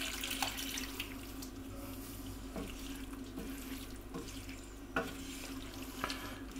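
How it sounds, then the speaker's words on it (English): Tap water runs steadily into a metal tin to rinse it out, a continuous hiss and splash with a few faint knocks and clinks from the tin. "With this tin I'm going to put some water into that to rinse it out."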